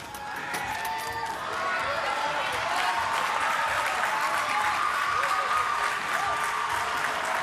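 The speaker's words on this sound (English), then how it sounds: "The crowd are really enjoying this performance so far." Sustained applause and cheering from an arena crowd during a men's or women's artistic gymnastics World Challenge Cup event final, a steady dense wash of clapping lasting throughout, with a commentator's voice faintly mixed under it.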